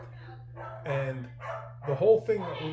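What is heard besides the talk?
dog barking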